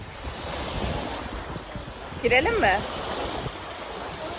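Gentle waves on Salda Lake, stirred by a light wind, wash steadily close by amid wind noise, while a person briefly speaks in the middle.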